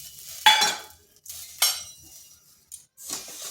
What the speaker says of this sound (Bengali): এরপর চিনিটাকে অনবরত নাড়তে হবে